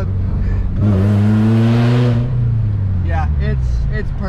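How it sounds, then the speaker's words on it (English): A supercharged car accelerates hard in first gear, right up close and very loud, its engine roar rising with a strong supercharger whine. The roar then eases off as a voice comes in briefly near the end. "And that supercharger is so loud."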